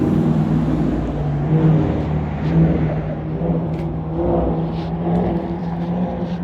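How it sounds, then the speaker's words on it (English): A loud car engine drones close by with a steady hum and slight revving, a vehicle passing without any talking. "Loud engine pass."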